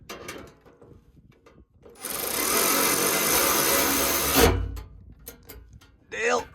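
A Milwaukee power tool whirs loudly for a few seconds as it tightens a part on a combine, a steady high buzz that stops abruptly with a thump, between quieter stretches of background noise.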